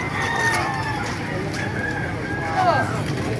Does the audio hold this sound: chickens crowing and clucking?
yes